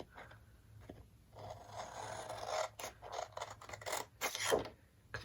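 A paper piece is cut off a Christmas gift bag, giving soft scratchy cutting and rubbing sounds in short uneven strokes that grow a bit louder toward the end, close and quiet with no talking.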